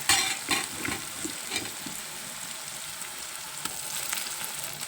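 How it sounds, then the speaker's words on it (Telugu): Tomatoes sizzle and fry in a hot pan with oil and golden onions for a ridge gourd and dried prawn curry. A steady crackle runs throughout, with scraping stirs marking the rhythm. No one speaks. "ఇప్పుడు మనం టమాటా కూడా వేసుకోవచ్చు"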